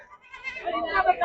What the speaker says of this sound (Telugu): 2 పిల్లలు ఉన్న మేకలు కొన్ని వచ్చాయి, విడివిడిగా తీసుకొచ్చారు